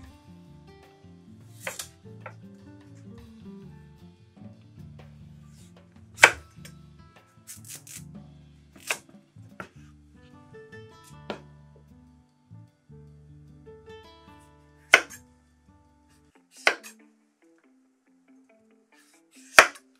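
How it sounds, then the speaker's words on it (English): A knife cubes a peeled butternut squash on a cutting board, with scattered sharp chops and scraping sounds separated by quiet gaps, close up. "we're going to cube this nice butternut squash"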